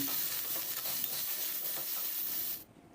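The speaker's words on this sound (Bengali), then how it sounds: "তেলের মধ্যে ভালো করে আমি সব নাড়াচাড়া করে এর মধ্যে স্বাদ মতো লবণ আর হলুদ দিয়ে দিচ্ছি আর দিলাম লাল লঙ্কার গুঁড়ো সব ভালো করে মিশিয়ে আমি সাঁতলে নিচ্ছি" Salt, turmeric and red chilli powder being sautéed and stirred in a little oil, a steady close frying sizzle with scraping stirs that cuts off near the end.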